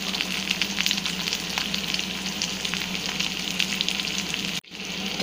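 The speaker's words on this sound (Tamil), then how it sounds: "ஃபஸ்ட்டு நம்ம கடுகு போட்டுக்கலாம். நல்லா பொரிஞ்சு வரட்டும். அடுத்து வெங்காயம், கருவேப்பில ரெண்டும் போட்டிருக்கேன்." Mustard seeds, onions and curry leaves frying in oil for a pepper chicken dish make a steady close sizzle dotted with small pops, cut by a brief silent gap near the end.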